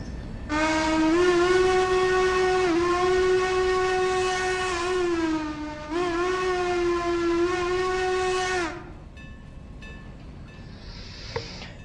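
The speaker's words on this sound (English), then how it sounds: "I don't really like the sound of the hooter" The hooter of locomotive 475 in a train simulator game sounds one long, loud, steady, multi-tone horn blast with two brief dips. It then cuts off into quiet background ambience.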